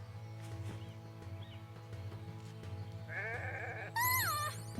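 A sheep in the video game Renowned Explorers bleats twice in quick succession, a wavering cry followed by a higher one, over a soft, steady game music bed.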